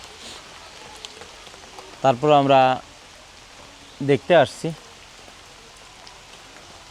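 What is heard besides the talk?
light drizzle of rain during monsoon season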